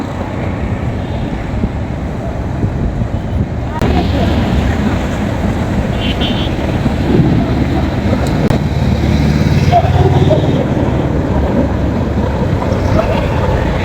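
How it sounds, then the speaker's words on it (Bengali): Passenger launch Pubali 7 heading toward Barguna on a river, with a loud, steady rumble of engine and rushing water mixed with wind, continuous throughout. "দেখতে পাচ্ছেন এই মুহূর্তে ফুবালি সাত বরগুনার উদ্দেশ্যে যাচ্ছে"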